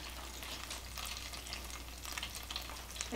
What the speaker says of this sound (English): I'm adding in my butter.